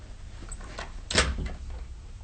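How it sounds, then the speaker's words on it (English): A door is shut and locked indoors on a stage drama set, with a soft handling noise and then one sharp, close clack of the latch or lock, followed by faint rustling. "Lock the door."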